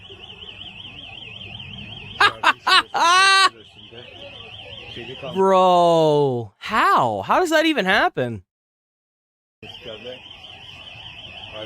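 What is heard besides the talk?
bank alarm going off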